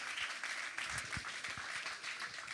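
Church congregation applauding, a steady wash of many hands clapping at moderate distance, continuous throughout with a few stronger individual claps standing out.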